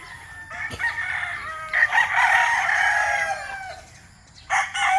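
A bulik gamefowl rooster on a farm in Laguna crows loudly and close, one long drawn-out cock-a-doodle-doo with a short call before it and another burst starting near the end.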